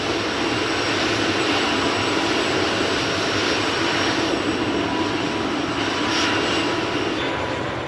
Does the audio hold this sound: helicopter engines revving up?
yes